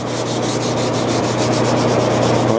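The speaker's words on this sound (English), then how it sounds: "Just do a light sanding with the sandpaper." Close, rhythmic rasping of sandpaper lightly rubbed back and forth over an oiled solid cherry Eames lounge chair in quick, regular strokes, with no voices.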